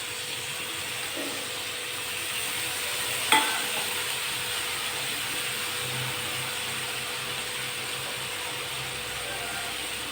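Fish in a pan with a continuous sizzling fry sound and a single sharp utensil clack partway through, with a faint low scraping of stirring underneath.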